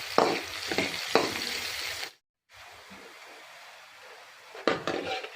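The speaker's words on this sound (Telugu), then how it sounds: "ఉల్లిపాయ ముక్కల్ని ఇప్పుడు ద్వారగా వేయించుకుందామండి" Onion pieces sizzling in hot oil in a pan for mutton biryani, frying and stirring noises with scraping bursts, a brief silent gap midway, then more sizzle and stirring.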